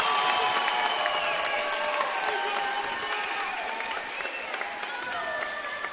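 Dense crowd at a junior college volleyball national championship match, Glendale against Parkland in a packed gym, cheering, whistling and applauding loudly and steadily throughout, with shouts and high whistles rising over a constant wash of clapping.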